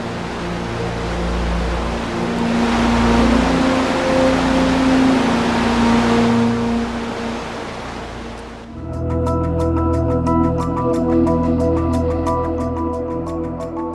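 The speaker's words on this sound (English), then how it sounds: "Another result of glacial melt, the Krimmel waterfalls." The Krimml waterfalls in Austria, the country's highest at 385 meters and fed by glacial melt, roar in a loud, steady wash of broadband noise. Partway through it shifts into a different, similarly constant rushing texture.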